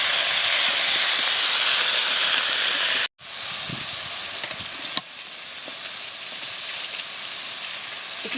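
Chopped ivy gourd greens, potato, bitter gourd and papaya fry in hot oil in a pan, giving a loud, steady sizzle that cuts out briefly, then resumes with light stirring clatter.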